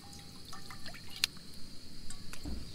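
Water pours from a bottle into a cooking pot outdoors beside a quiet lake, a soft, close trickle and splash with faint background noise and no talk.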